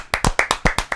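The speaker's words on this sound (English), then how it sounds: "You just got an applause break." A few people clap in a quick, uneven burst during a comedy podcast recording, about seven sharp claps in a second, close and fairly loud.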